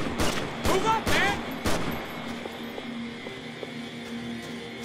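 Max Payne 3 gunfire: a few sharp shots crack close together early on, then the action settles into a lower, steadier rumble of ambient game noise.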